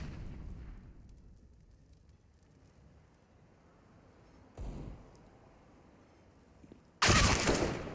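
Gunfire and headshots in a CS:GO esports match on Overpass, a couple of abrupt loud bursts breaking through quiet game ambience, the last one heavy and sustained.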